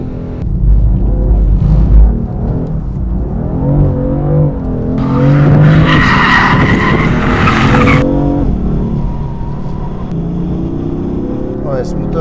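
A BMW M4 engine revs hard and its tires skid and squeal, a loud surge of harsh noise midway through, with someone talking over the car sounds.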